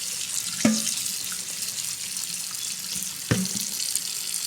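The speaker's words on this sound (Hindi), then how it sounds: "हम इसको नीम गर्म पानी से धो रहे हैं" Lukewarm tap water runs steadily into a sink while fish is washed under it, a constant close splashing hiss with two brief knocks of the fish or hands against the basin.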